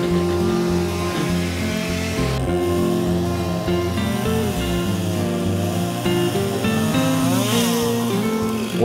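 Chainsaw ripping a log lengthwise into a slab, the engine droning loudly and continuously close by, its pitch rising and falling as the cut proceeds.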